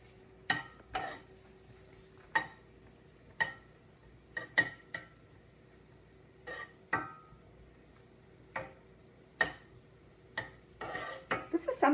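Spoon scraping and knocking against a pan while spicy shrimp cooks in butter, sharp irregular clinks spaced a second or so apart over a quiet background, close by.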